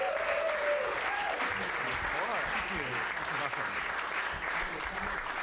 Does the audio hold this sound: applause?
yes